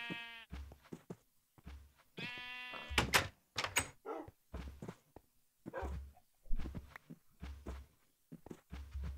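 A Minecraft sheep bleats in a clear, wavering call, set among repeated soft thumping footsteps and other game sounds in a quiet scene.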